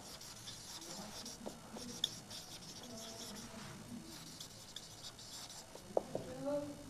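Pen or pencil writing on paper while working a maths problem, a soft continuous scratching and rubbing with a few light taps, faint and close, under quiet room noise.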